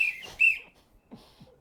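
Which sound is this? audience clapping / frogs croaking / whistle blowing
whistle blowing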